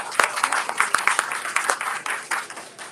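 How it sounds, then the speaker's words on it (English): Audience applauding at a ribbon cutting ceremony for a Peter Piper Pizza in Wasco, a steady burst of many hands clapping at moderate loudness for about three seconds with no talk over it. "Let's give them a round of applause."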